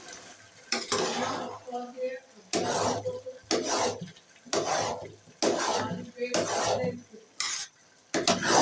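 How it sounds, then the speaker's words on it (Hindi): Grated carrots for gajar halwa roast and get stirred in a pan, with repeated scraping, clattering strokes in bursts about every second over a low sizzle, close and clear, with a voice faintly present. "यहाँ ये गाजरें खूब अच्छे से भून रही हैं।"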